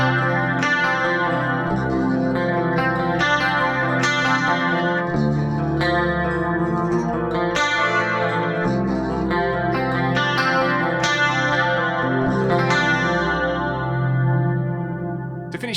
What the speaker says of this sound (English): I'll bring up this chorus setting in here, which is gonna give me a quad chorus